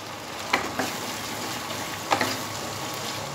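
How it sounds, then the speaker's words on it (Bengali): Katla fish head curry being gently mixed in a pan, a soft steady sizzle with a few light scraping strokes of the spoon, close and quiet, no voices. "এবার ভালোভাবে হালকা হাতে মিশিয়ে নেব"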